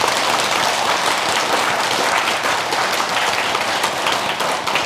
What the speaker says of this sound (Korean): 우리 사종스님들께 큰 박수 한번 보내주십시오.